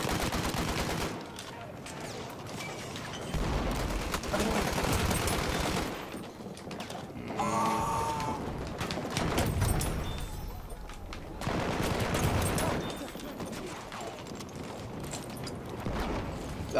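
Machine-gun fire in Battlefield 1, rapid bursts rattling through a busy battlefield mix with other gunshots and effects, while a player talks over much of the action.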